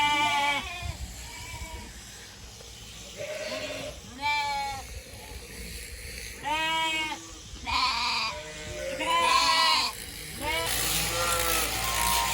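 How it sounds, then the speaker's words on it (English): Lambs and ewes bleat and call repeatedly on a sheep farm on shearing day, with loud wavering cries from several animals overlapping in bursts, near and far, over a low background rumble. "the lambs didn't like to be separated from the ewes, so there was quite a lot of noise and a lot of calling"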